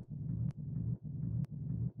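Layered techno rumble, a sub bass bed with a gritty friction rumble on top, pulsing in four steady swells with faint clicks at the gaps, quiet and without voices.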